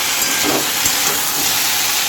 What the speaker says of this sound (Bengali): এখানে হচ্ছে এই যে সবজিটা যেটা ভাজছি আর কি মাছের মাথাটা দিয়ে দেবো